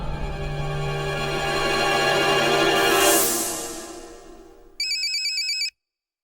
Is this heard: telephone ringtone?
yes